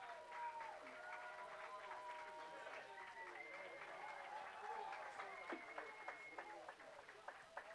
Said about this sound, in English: Crowd letting them hear that one too